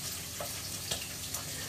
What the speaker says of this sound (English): just to sear the outsides